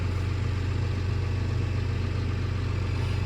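A New Holland T8030 tractor with a Cummins 8.3 L engine idles with a steady, low rumbling drone, close and continuous with no variation.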